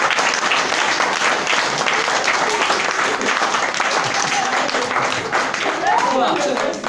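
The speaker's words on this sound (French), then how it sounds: "on peut les applaudir bien fort." An audience claps loudly and steadily throughout, a dense sustained wash of applause at a stage hypnosis show, with faint voices mixed in.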